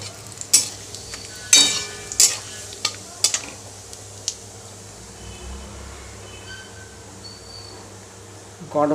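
Dry red chillies, bay leaves and whole cumin spitting in hot oil, with a few sharp crackling bursts early on that fade into a faint, quiet sizzle, then a fresh burst at the end.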